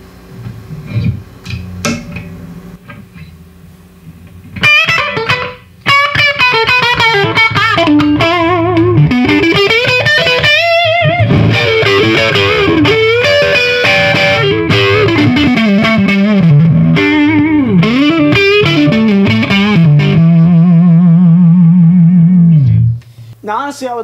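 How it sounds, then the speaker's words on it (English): An electric guitar played through a Marshall JVM210 tube amp with power tube overdrive, loud and close, ringing distorted chords and melodic runs over about twenty seconds, ending on a sustained low note. "Now, you notice I have the gain very high, but again, since we're not driving a preamp, it's not going to oversaturate"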